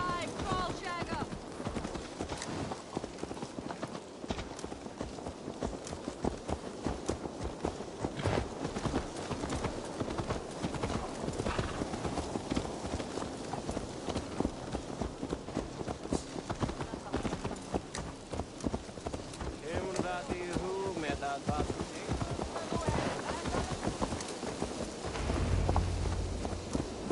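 Horse hooves clip-clop steadily in Assassin's Creed Valhalla, a fast, even rhythm of hoofbeats running throughout over a dense layer of rain-like ambience, with a deeper rumble near the end.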